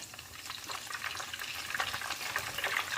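Minced catfish meat with no flour or batter frying in hot oil over medium heat, giving a steady crackling sizzle with dense bright spatters that build slightly louder toward the end, no talking.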